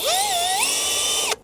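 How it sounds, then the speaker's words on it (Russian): A power drill bores a hole into the insulated facade of a house, its whine rising then holding steady and loud for over a second before stopping abruptly. "Последнее сверление"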